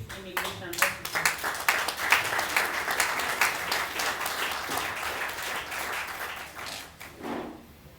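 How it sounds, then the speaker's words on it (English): An audience breaks into sustained applause for a Chief Immigration Officer at a Sierra Leone passport ceremony, dense clapping lasting several seconds before tapering off near the end. "I want us to give a round of applause for the Chief Immigration Officer."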